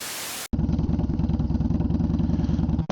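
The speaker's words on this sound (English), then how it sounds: "It looks like it's picking up the bike though." A motorcycle engine under way, recorded close from the rider's position: a loud, steady throbbing rumble after a brief cut to silence, ending with a short burst of wind noise.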